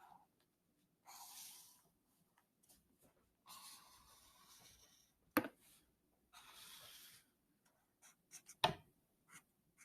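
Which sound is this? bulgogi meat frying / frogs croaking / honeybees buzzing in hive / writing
writing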